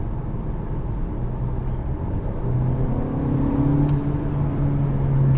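A Volkswagen Passat R Line in sport mode accelerates, its engine hum and whir rising steadily in pitch and volume, heard from inside the car with no talking.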